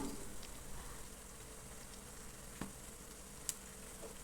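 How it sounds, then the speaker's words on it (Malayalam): Bread frying in a little oil over a medium flame, a soft, steady sizzle with faint crackles and a couple of sharp pops, heard close but quiet with no talking. "ഒരു മീഡിയം ഫ്ലെയിമിലിട്ടിട്ട് ഫ്രൈ ചെയ്തെടുത്താൽ മതി"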